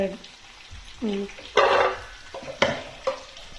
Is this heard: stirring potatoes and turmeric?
yes